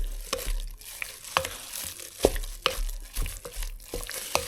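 A spoon stirs cassava cake batter with evaporated milk in a bowl, giving a run of close, uneven scraping and sloshing strokes with no talking.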